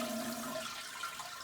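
A Crane toilet flushes with a steady rushing, gurgling wash of water that holds at an even level throughout, with no voices.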